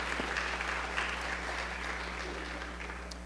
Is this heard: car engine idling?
no